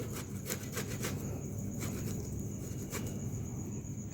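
Boiled potatoes being grated for beetroot cutlets, a steady series of close, dry rasping strokes, several quick scrapes early then a few spaced pulls, continuous with no talk.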